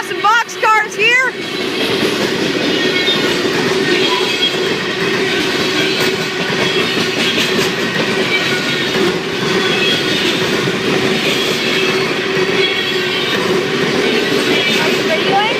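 CN freight train cars roll past behind an SD60F locomotive, a loud, close, continuous rumble with rhythmic clickety-clack of wheels over rail joints and a faint squeal, after a short burst of noise at the start.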